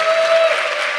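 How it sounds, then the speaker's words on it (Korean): A church congregation claps together in dense, steady applause, loud and close throughout the brief moment, with no speech over it. "우리 미래 세대를 위해서 박수 한번 합시다."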